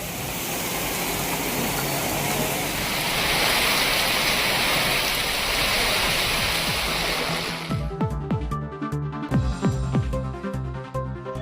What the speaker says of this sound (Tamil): சென்னை மற்றும் புறநகர் பகுதிகளில் 3வது நாளாக மழை.